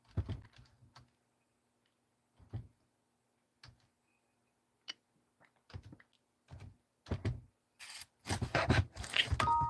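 Someone types on a computer keyboard in quiet bursts: scattered single clicks at first, then a quicker run of keystrokes building at the end, close and fairly soft.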